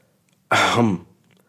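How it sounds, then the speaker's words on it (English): A single sharp, close throat-clearing cough from a woman, short and loud, set against near silence before and after. "Monica coughed"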